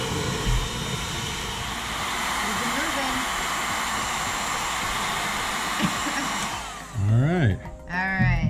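A heat gun blows a steady, loud rush of hot air onto a Christmas snow globe ornament during a repair, the even roar holding for about seven seconds before cutting out as people speak.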